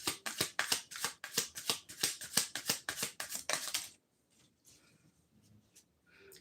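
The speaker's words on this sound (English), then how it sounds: "Let's get one card from this deck." Rapid, crisp riffle-shuffling of a tarot deck in dense bursts for about four seconds, close and loud, followed by a few faint soft card handling sounds in near silence.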